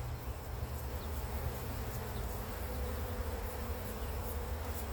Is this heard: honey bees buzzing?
yes